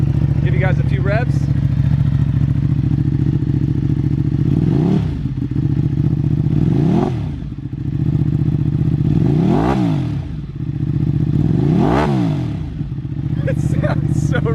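A 2021 Ducati Panigale V2 with a full Akrapovic exhaust idles loudly up close, then is blipped through four sharp revs that rise and fall back to a deep, steady idle.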